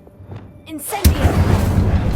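A fire spell cast in the video game Hogwarts Legacy, a sudden loud whooshing burst followed by a sustained crackling roar, with a voice speaking briefly before it.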